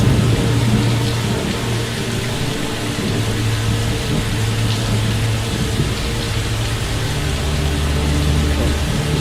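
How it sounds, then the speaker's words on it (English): Heavy rain falls steadily in the video game Fallout London, a dense continuous hiss with faint low rumbles beneath it and no speech. "rain like this makes visibility abject black"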